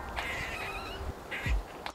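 A small grey squirrel in a garden gives a few short, raspy calls close by, with brief gaps between them.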